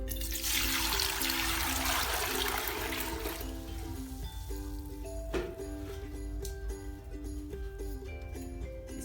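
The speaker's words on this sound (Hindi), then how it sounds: "ये 3 किलो मैंने प्रेशर में पानी डालना है।" About three kilograms of water pours into a pressure cooker, a loud rushing splash for the first few seconds that eases into quieter trickling, with a faint hum running underneath.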